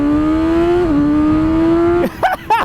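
A 2022 BMW S1000R motorcycle accelerates hard from 40 to 80, its loud close engine whine climbing steadily with a quick upshift partway through, then the wind-roar breaks up at the end.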